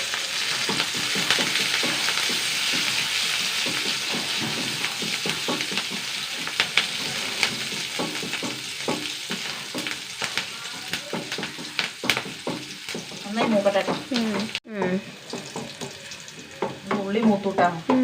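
Curry leaves dropped into hot oil for tempering give a steady, loud frying sizzle with stirring and utensil scrapes, a brief sharp break late on, and people talking over it toward the end.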